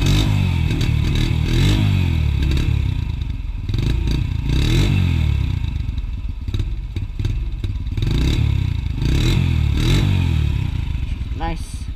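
A cold ATV engine runs loud and close throughout, with an uneven, rough idle that rises and falls, while someone talks over the motor.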